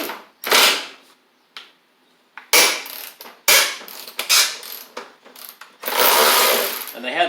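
Bolts being pulled off the front of a 1985 Wheel Horse 312-8 garden tractor, heard as a series of close, loud ratcheting and creaking metal bursts, separated by short pauses.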